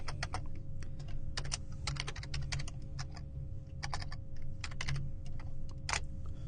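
Close, crisp clicking of fingers typing on a computer keyboard, irregular bursts of keystrokes with brief pauses, quiet and alone.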